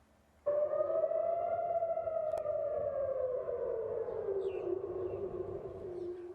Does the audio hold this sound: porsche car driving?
no